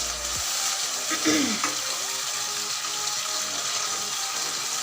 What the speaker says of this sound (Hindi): हमारी प्याज पक रही है बहुत अच्छे से